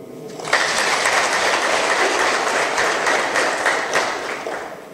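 An audience bursts into applause during Bamporiki's speech, a dense, loud, even roar of many clapping hands that starts abruptly and holds steady for about four and a half seconds.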